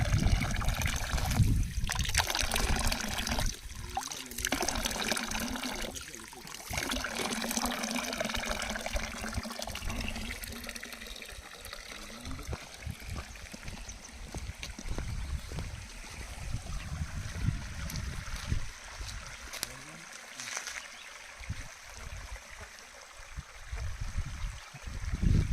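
Pure spring water trickles and flows down from the hills in a national park near Munnar, a close, continuous gurgling stream with some louder splashing bursts early on.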